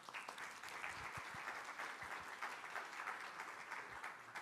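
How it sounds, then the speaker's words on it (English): Audience applause for two presenters at a conference on responsible leadership in China, a steady, moderately distant patter of many hands clapping throughout, with a few sharper claps standing out. "let's give a big round of applause to Henry and Adriana."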